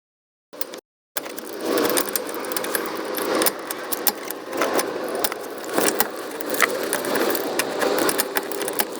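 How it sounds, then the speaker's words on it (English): Small metal scraping and clicking as a pick works a locking ring off a car door top hinge pin, busy jangly rattles after a brief tap and a short silence. "Start removing the locking ring for the top hinge."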